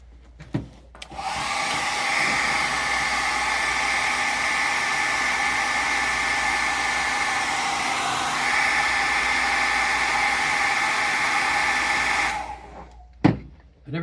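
A hair dryer-style blower runs steadily for about eleven seconds, drying a coat of paint on a painted garment in an icon workshop. It is a loud, even whoosh that starts and stops cleanly, with no talk.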